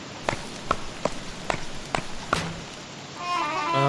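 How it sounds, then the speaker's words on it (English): Rain falling in the survival game Don't Starve, a steady hiss with several distinct thumping impacts spaced through the first part, then the downpour swelling slightly louder toward the end, with no talk over it. "This rain is not good for our fire."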